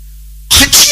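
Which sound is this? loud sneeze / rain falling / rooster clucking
loud sneeze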